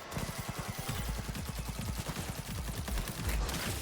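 Rapid gunfire in the video game Cyberpunk 2077 Phantom Liberty, a dense stream of automatic shots and bursts, steady and moderately loud with no talk.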